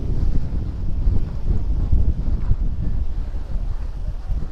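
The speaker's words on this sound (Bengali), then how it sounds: "কর্ণফুলী নদীর তীরে পাথরের উপর আশ্রয় পড়ছে বড় বড় ঢেউ" Big waves break and wash over rocks on the Karnaphuli riverbank near its estuary with the Bay of Bengal, a continuous low churning roar with heavy wind buffeting the microphone throughout.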